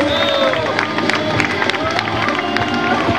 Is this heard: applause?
yes